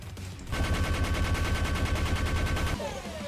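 A rapid burst of cannon fire from a Minecraft-like game, dozens of sharp evenly spaced shots in quick succession for about two seconds, loud and close, then stopping abruptly.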